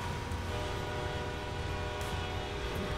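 A freight train rumbles steadily in a train simulator game, a continuous low mechanical drone with no talk over it.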